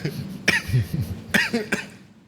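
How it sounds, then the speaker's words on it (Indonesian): Several harsh coughs in quick bursts, close by, with throaty rasps between them, fading at the end. "Aduh sampai batuk-batuk."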